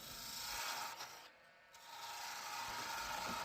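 Wood lathe turning a toy bus part with a skew chisel taking a peeling cut: a steady close rasping, scraping hiss that dips briefly in the middle before resuming, with no talk.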